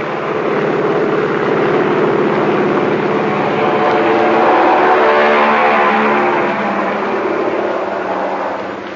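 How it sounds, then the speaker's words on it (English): Steady, loud propeller aircraft engines roar with a rising, swelling drone that peaks mid-clip, a close-up run-up for takeoff down a carrier deck in 1943, with no talking. "The pilot revs up his motors."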